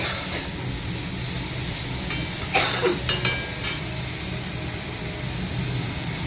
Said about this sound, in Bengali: মাছটা ভাজা হচ্ছে, 4 পিস মাছ ভাজা হবে।